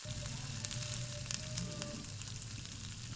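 Vegetables frying with Kashmiri chili powder in a Bengali home kitchen, a dense continuous sizzle close up with scattered light clicks of stirring throughout.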